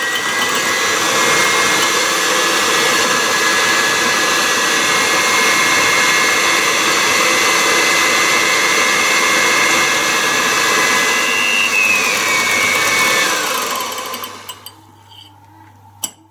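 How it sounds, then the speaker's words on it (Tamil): An electric beater whirs loudly and steadily at close range as it whisks eggs for egg coffee, then cuts off near the end and leaves quiet room noise. "அதுக்கு பிறகு 2 அளவு முட்டையோடு சேர்த்து அடிக்கிறோம்."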